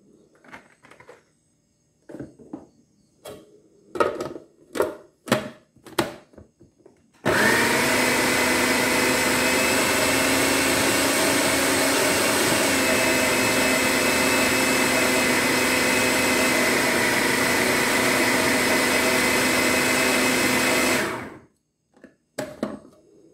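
A blender whirs steadily for about fourteen seconds as it purees green seasoning with vegetable oil, loud and continuous, then cuts off abruptly. Before it starts, a series of sharp knocks and clatters sounds as ingredients go in.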